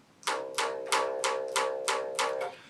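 A single bass guitar note, C, plucked seven times in a steady rhythm, each pluck crisp and decaying quickly, close and fairly loud, with nothing else playing.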